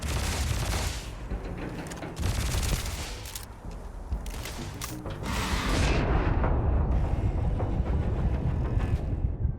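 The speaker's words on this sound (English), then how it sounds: "I got hit by that explosion" Explosions and rapid gunfire in a Starfield space combat game, a dense, loud barrage of bursts and booms with mechanical clatter that carries on continuously.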